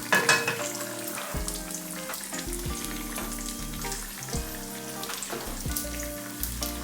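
Potato pieces and cauliflower florets fry in a pan for an Indian meal, giving a steady crackling sizzle with scattered louder pops and spatters throughout, close and fairly quiet, with no voices.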